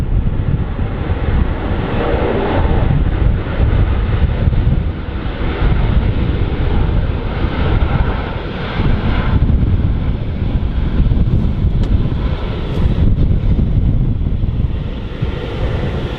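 An Azerbaijan Airlines airliner landing at Manchester Airport, a steady loud roar of jet engines mixed with heavy wind buffeting on the microphone, continuous and without talk.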